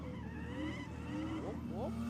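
A Golf R race car launches down a drag strip lane, its engine note climbing in pitch through steady revs with a brief chirp of tyre noise, loud and close, while voices talk faintly underneath.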